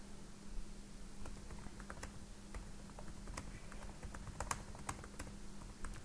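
Typing on a computer keyboard: a quiet, steady patter of soft key clicks, alone, with no talking over it.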